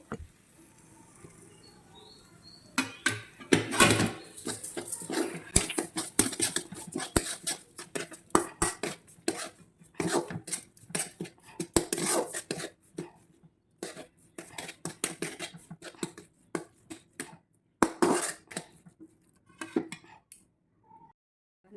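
Green pigeon pea paratha filling stirred and mixed in a pan with lemon juice and sugar, a spoon scraping and clinking against the metal in irregular, close taps and rattles.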